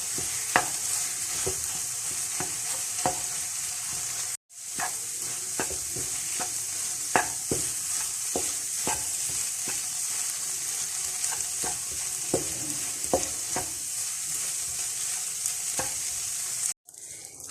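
Makhadi halwa stirred continuously in a pan as it turns golden, a steady hissing sizzle broken by frequent scraping ticks of the spoon, close up and without talk.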